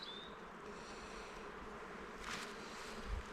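Honeybees buzz at a hive during a spring inspection, a soft continuous drone with individual bees passing close, and light handling noises near the end.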